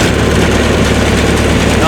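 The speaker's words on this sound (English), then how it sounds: "Now the engine is running" A Spartan series machine's engine running after a key start, giving a steady, close, low droning hum at constant pitch throughout.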